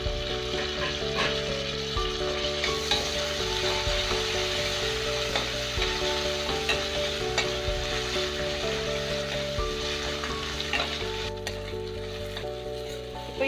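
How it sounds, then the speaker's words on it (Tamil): Chopped tomato and onion sauté in a pan for kodo millet kichadi, giving a continuous close sizzle with repeated scraping and stirring strokes throughout. "இந்த சமயத்தில் நான் தக்காளி ஒன்று வந்து சின்னதாக கட் பண்ணி ஆட் பண்ணிக்கிறேன்."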